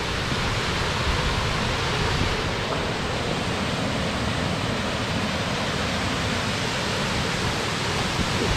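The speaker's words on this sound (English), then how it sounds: "There are two-stage falls." A two-stage waterfall in winter roars as a dense, constant broadband rush, steady and loud throughout with a little wind buffeting the microphone, no talk.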